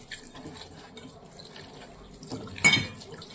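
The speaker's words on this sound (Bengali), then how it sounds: "এটা ভালো করে ধুয়ে নিতে হবে।" Vegetables being rinsed in water, with a soft, steady wash of trickling and dripping and one louder splash near the end.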